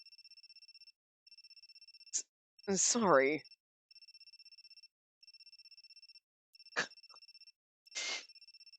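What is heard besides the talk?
phone ringing in Amnesia Later x Crowd video game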